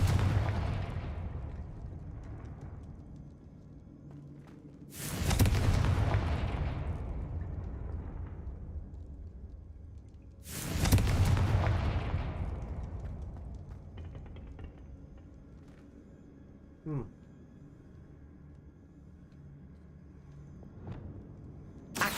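Confringo explosive spell blasts in Hogwarts Legacy on PS5: two loud booming explosions about five seconds apart, each decaying slowly, then a fainter pop later, over a quiet game backdrop.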